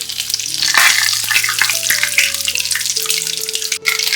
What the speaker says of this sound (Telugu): ఇప్పుడు ఈ నూనెలో 1 స్పూన్ ఆవాలు, 1 స్పూన్ జీలకర్ర వేసుకోవాలి. అలాగే 2 బిర్యానీ ఆకు వేసుకోవాలి.